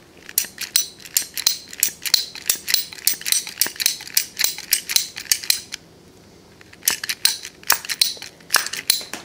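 A hand cutting tool clips through a solar generator cable with rapid, repeated sharp clicks and snips at close range. The clicking pauses briefly, then resumes.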